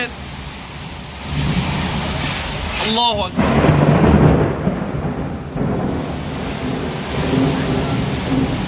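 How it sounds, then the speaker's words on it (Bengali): Loud thunder cracks and rumbles over heavy, steady rain during a nor'wester storm in Hathazari, with a sharp burst near the start followed by rolling booms. "ভারী বজ্রপাত হচ্ছে এবং ভারী বর্ষণের পাশাপাশি খুব জোরে কিন্তু তুফান হচ্ছে"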